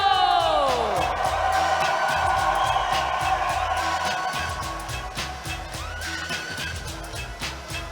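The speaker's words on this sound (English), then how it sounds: "And how about a big cheer for Team Puerto Rico?" Spectators cheer for Team Puerto Rico at a roller derby bout, a sustained crowd roar with whoops and shouts that slowly fades, over a low rumbling background.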